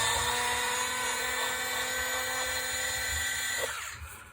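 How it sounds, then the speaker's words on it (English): An electric screwdriver whines steadily at close range while backing screws out of an Arrma Granite RC car motor, then spins down and stops near the end. "Because I'm removing them, I'm going to use my electric screwdriver"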